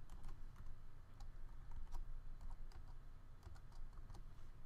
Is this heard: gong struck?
no